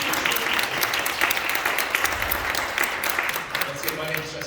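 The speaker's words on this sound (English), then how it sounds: "let's give her a round of applause" An audience gives a round of applause, many hands clapping together in a dense, even burst that holds steady and thins slightly toward the end, with a little talking underneath.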